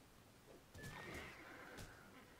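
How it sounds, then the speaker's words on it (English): A horse neighs in the Titan Quest video game, a faint whinny rising in the middle over low background game ambience, with a few brief sharp accents; no speech. "they're going to kill my horse."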